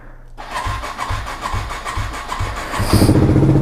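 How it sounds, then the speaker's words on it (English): A motorcycle engine cranks over in a rapid repeating starter rhythm, then catches and settles into a loud, close idle right at the end. "Does this bike even work still? Alright, the battery's not dead."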